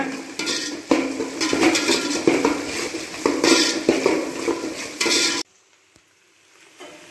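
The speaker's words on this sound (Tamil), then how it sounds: "இதை போட்டு நல்லா பொன்னிறமாக வதக்கிக்கிங்க" Curry leaves and chopped onions sautéed in a pan until golden, a spatula scraping and clattering against the metal steadily for about five seconds before it stops and goes quiet.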